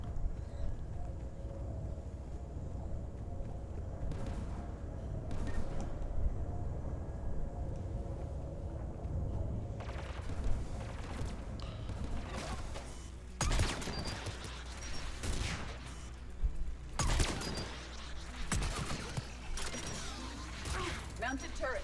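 A mounted AA gun turret fires in Mass Effect 3: low mechanical rumble gives way to sharp, loud bursts of heavy fire, with voices heard underneath.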